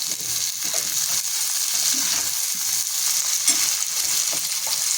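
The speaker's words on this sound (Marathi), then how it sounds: "बारीक चेचून घेतलेला लसूण कांदा हे चांगलं आपण परतून घेऊयात" Crushed garlic and onion sauté in hot oil in a pan, giving a loud, steady, close sizzle with soft scraping stirs now and then.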